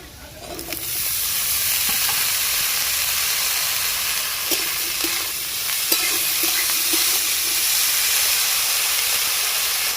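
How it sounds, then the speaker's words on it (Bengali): Potatoes and eggplant fry in oil, a loud steady sizzle and hiss rising quickly and holding throughout, with occasional light scrapes and clicks of stirring. "এবারে তেল একটু দিয়ে আমি আলু বেগুনটা ভালো করে ভেজে নেব"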